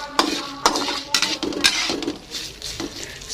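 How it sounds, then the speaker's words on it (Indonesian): Spaghetti being stirred in a metal cooking pan, with repeated clinks and scrapes of a utensil against the pan at an irregular rhythm, close and fairly loud, with no voices. "Diaduk sampai rata ya teman-teman"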